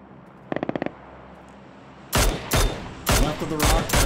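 In PUBG, a quick faint burst of distant automatic fire, then several loud, close gunshot volleys in rapid bursts, sharp and booming.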